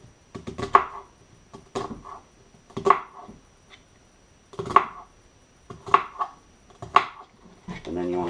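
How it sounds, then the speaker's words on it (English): A knife cuts small slits into an onion on a cutting board while preparing bourbon meatballs, giving sharp, close chopping taps in irregular bursts of several strokes separated by short pauses. "this is how I cut, my onions to get them small"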